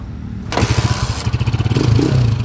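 A TMX155 motorcycle engine, bored up to 210cc, cranks with a rapid chugging thump, then catches and idles roughly, loud and close.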